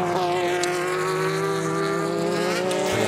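Race cars scream past at the 2016 FIA WEC 6 Hours of COTA endurance race at the Circuit of the Americas in Texas, a loud, continuous high-pitched engine whine that shifts slightly in pitch, with no talk.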